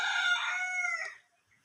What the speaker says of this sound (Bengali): গ্রামে এসেছি, মুরগির ডাক